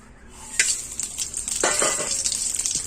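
Cinnamon, cloves, cardamom and onion sautéing in hot oil in a pan, a close bright sizzle that swells after an early clink, with stirring scrapes and utensil taps throughout.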